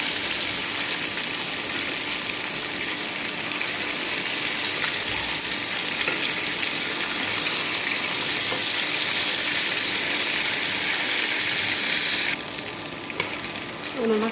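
Fish frying in a wok, a loud, continuous close sizzle and crackle with watery spattering, dropping suddenly quieter near the end, with no one talking.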